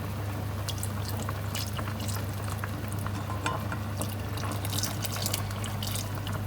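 Cooking oil pours into a pan that already holds about 50 grams of butter, making a steady, soft liquid trickle with faint bubbling and dripping that runs evenly throughout.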